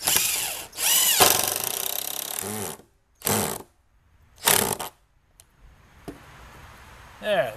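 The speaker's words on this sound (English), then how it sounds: "I'm going to put some extra screws in here." A power driver runs extra screws into the boards of a rebuilt picnic table in several loud bursts, two long whirs, then shorter runs and a final rising spin, with silent pauses between.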